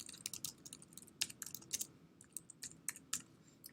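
A computer keyboard is tapped at close range as an event name is typed, a quick irregular run of light clicky keystrokes with brief pauses, with no talking.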